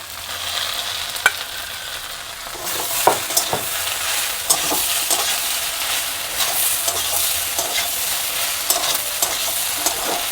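Beans and potatoes fried in a pan with egg, a spoon scraping and clacking against the pan in irregular knocks over a constant sizzle, close and clear, starting quieter before the stirring picks up.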